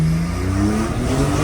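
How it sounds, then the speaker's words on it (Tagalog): A 2021 Porsche 911 992 Targa engine revs steadily and loudly close by, a rising and falling rasp with no talking over it. "Kaswabe, this is the 2021 Porsche 911 992 Targa"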